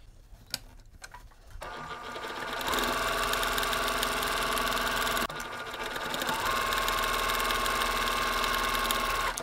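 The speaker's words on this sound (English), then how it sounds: "I'm going to repeat stitching along the line just like I did before." A sewing machine stitches a quilt block: a steady, fairly loud mechanical whir that starts after a second of quiet handling noise, runs continuously, pauses briefly near the middle, then resumes alone.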